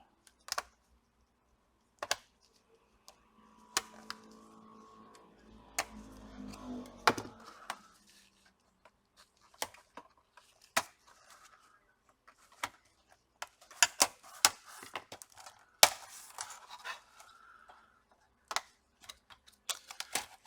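A sharp tool pries at the keyboard of a Dell Inspiron 3531 laptop, giving scattered sharp plastic clicks and snaps, some in quick clusters, between quiet pauses, with a brief scraping rustle in between.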